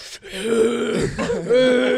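A voice imitates an old woman's raspy, throaty smoker's cough, a rough gravelly hacking sound close to the microphone.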